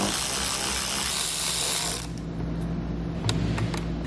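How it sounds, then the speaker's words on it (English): A 7/16 socket wrench ratchets connector bolts loose on a 2014 Jeep Cherokee, a steady clicking that runs for about two seconds, then drops to quiet with a few faint clicks. "I'm going to use a 7/16 socket and wrench to pull them out."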